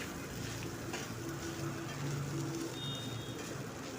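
Sabudana khichdi mixture with crushed peanuts and salt being stir-fried in a pan, giving a steady, close sizzling and scraping hiss that runs without a break and has no voices.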